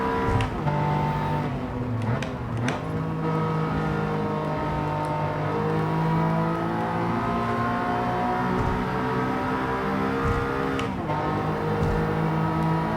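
Race cars in Gran Turismo 7 driving flat out, engines droning steadily with rising and falling revs, a few sharp shifts or bumps and nearby cars passing, loud throughout with no talk.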